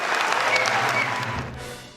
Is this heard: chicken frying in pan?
no